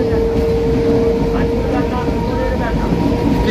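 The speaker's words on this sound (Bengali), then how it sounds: "ট্রেন ছেড়ে দিয়েছে, সিটও পেয়ে গেছি" A Canning local train runs toward Sealdah, a steady loud rumble and rattle heard from inside the carriage with a faint tonal whine over it, continuous throughout with no voices.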